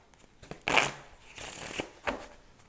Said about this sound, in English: I'm going to flip over one card at a time.